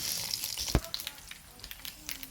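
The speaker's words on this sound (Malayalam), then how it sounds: "വെളിച്ചെണ്ണ ഒഴിച്ചു കൊടുത്തിട്ടുണ്ട് കടുക് ഇട്ട് കൊടുക്കുക" Mustard seeds sizzle and pop in hot coconut oil while tempering a Kerala-style dish, giving a steady near crackle with scattered sharp pops and one louder burst.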